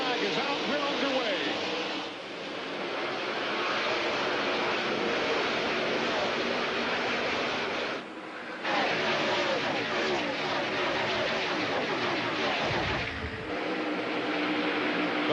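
NASCAR Winston Cup stock cars roar off at the start of the Pocono 500 at Pocono Raceway, a dense, loud wall of engine noise that briefly dips before surging again, with an announcer talking over it.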